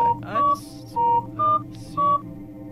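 Five separate keypad tones sound as a telephone number is dialed in the video game Fran Bow, short steady beeps with gaps between them over a faint background hum, with brief soft clicks mixed in.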